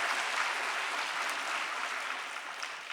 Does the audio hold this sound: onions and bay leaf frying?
no